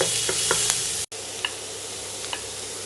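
Onions sautéing in a pan for potato bonda, a steady soft sizzle with a few light stirring taps, briefly cut by a short dropout.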